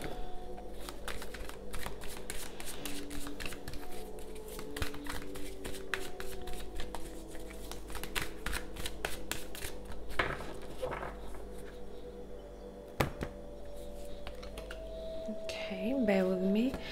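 A deck of animal tarot cards is shuffled steadily, a dense run of papery riffles and clicks close by, with a soft voice and a brief low hum near the end.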